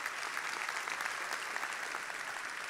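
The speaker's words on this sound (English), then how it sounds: "Applause for them." Warm, continuous applause from a large crowd at a medical college commencement, even and unbroken throughout.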